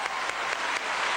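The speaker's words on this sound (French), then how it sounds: "je vous propose d'applaudir son entrée en scène" A live television studio audience applauds Michel Sardou's entrance on stage, a steady wash of clapping with small swells.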